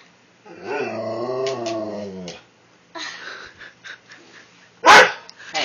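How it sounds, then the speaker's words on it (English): A dog growls in a long, low rumbling stretch, then lets out a sequence of short barks, one sharp and loud near the end. "No barking."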